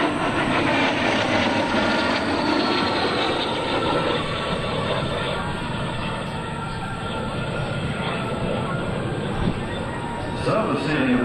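An L-39 jet roars steadily overhead at an air show, a loud, broad, continuous engine noise that holds its strength for the whole stretch with only slight swells.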